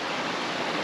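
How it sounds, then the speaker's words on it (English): A small brook flows beside a path in Scotland's Atlantic rainforest on Ardnamurchan, its close, steady broadband rush of water filling the moment without any voices. "So apologies for the noise, standing beside a little brook."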